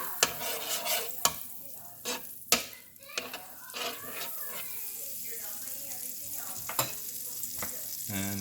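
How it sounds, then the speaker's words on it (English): Butter sizzling in a skillet while pancakes are being made, a steady crackling fry with sharp clinks and scrapes of a utensil against the pan, fairly close. "I'm gonna get some butter on my skillet and get it all melty."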